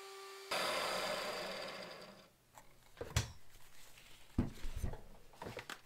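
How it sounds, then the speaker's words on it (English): A power drill bores through a solid guitar body for the 1/4 inch jack hole on a Prince Cloud style guitar, a steady close grinding whir lasting about two seconds that fades out, followed by sharp scattered knocks and handling clatter. "this is where the 1/4 inch jack goes. So I'll be drilling through that anyway"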